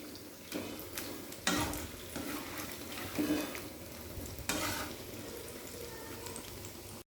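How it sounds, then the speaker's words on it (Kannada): Gobi 65 cauliflower pieces frying in hot oil for a crisp, restaurant-style finish give a steady, close sizzle and crackle, with a few louder bursts as the pieces are stirred or turned. No one speaks. "ಒಳ್ಳೆ ರೀತಿ ಫ್ರೈ ಆಗಲಿ ಇದು."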